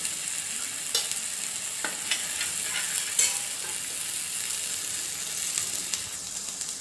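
Fresh roasted spice paste sautéed in oil for a green-chili egg curry, a continuous bright sizzle with occasional scraping stir strokes, close and steady with no voices.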